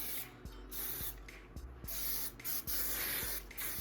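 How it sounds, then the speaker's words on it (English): Hairspray hisses from an aerosol can in short bursts, a steady close spray broken by brief gaps. "Okay, now I'm just gonna give it one good spray."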